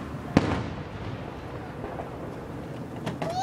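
Fourth of July fireworks go off outdoors: a sharp nearby bang near the start, then a steady rumbling backdrop with a couple of fainter distant pops toward the end.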